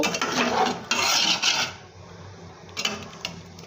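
A spoon scrapes and stirs khesari lentils with figs in a metal cooking pot, a close, steady rasping that pauses briefly before a few more clinks and scrapes.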